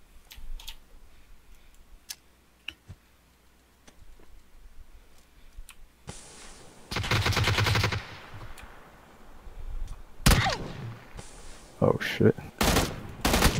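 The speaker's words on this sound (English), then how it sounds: "That guy was shooting from the smoke." Gunfire rings out in a first-person shooter match with smoke grenades in play: scattered single shots, then loud sustained automatic bursts and rapid volleys. Keyboard clicks sound throughout, and a player briefly talks over the action.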